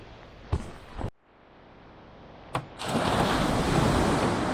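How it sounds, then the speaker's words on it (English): Waves wash onto a fishing beach with a steady, roaring surf, broken by a couple of sharp wind-buffeting bumps and a brief dip before the surge swells louder. "Okay, looks like a fishing port, fishing beach."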